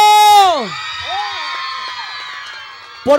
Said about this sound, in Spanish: A ver, las chavas, un grito y un aplauso.